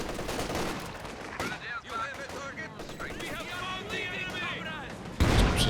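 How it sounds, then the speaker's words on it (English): Artillery barrage in Company of Heroes 2 landing on clumped infantry: a sharp broadband impact at the start, scattered blasts and a heavy explosion near the end, under a voice talking throughout. "Just left there's this barrage coming in onto the Ogres."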